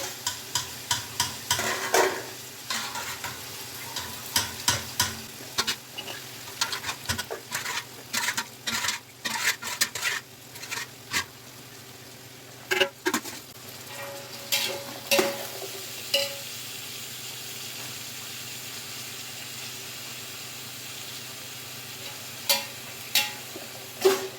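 Vegetables such as peas, carrots, beans and kohlrabi being stirred in a pan for vegetable biryani: repeated close scraping and clinking of a spoon against the pan over a soft, steady sizzle, with the strokes thinning out toward the end.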